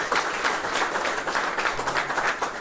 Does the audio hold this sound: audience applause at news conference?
yes